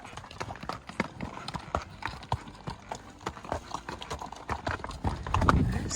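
Horse hooves clip-clop steadily on a rocky desert trail in Arizona, close and moderately loud, in an uneven walking rhythm with a brief louder scuffle near the end and no talk.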